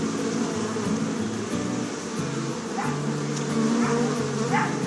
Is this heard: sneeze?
no